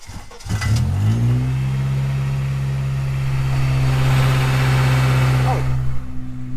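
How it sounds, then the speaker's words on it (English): A 2005 Honda Accord Coupe with a test pipe and broken exhaust revs up with a rough, rattling exhaust drone, then holds a loud steady growl before dropping back. "take a listen to the exhaust."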